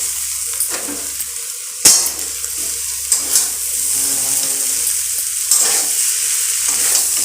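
Vegetables and Maggi noodles fry with Maggi masala in a pan, giving a steady close sizzle, with stirring scrapes throughout and a sharp metal clank partway through.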